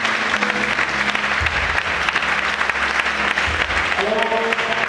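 Church congregation applauding and cheering in acclamation, a dense continuous wash of clapping throughout with voices and some singing-like tones rising under it.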